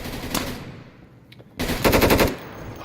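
Loud automatic gunfire from a video game comes in two rapid bursts, a short one and then a longer, denser volley, with a quiet gap between them.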